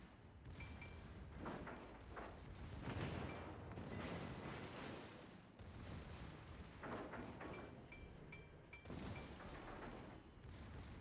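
Secondary guns firing in World of Warships, a dense run of booms and thuds rolling on continuously for about eleven seconds at a fairly faint level, with small chime-like game cues over the top.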